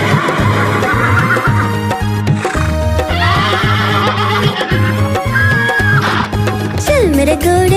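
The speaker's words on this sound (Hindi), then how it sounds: "चल मेरे घोड़े चल" Horse neigh and whinny with clip-clop hooves set in a Hindi children's rhyme, riding over a loud, steady music backing with a rising whinny near the end.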